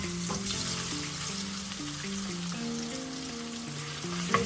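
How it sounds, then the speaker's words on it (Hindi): Marinated chicken pieces fry in hot oil over a medium-high flame for a party stir fry, a steady sizzle sitting under a stepped melodic background tune. "चिकन फ्राई करना है, बोथ साइड फ्राई करना है हमें।"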